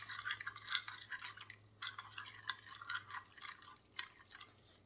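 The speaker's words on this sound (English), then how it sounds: "Mix it up again and taste it." A spoon stirs a vegan tofu and preserved lemon tagine in a pot, with faint, close scraping and wet swishing strokes repeating over a few seconds and a low hum beneath.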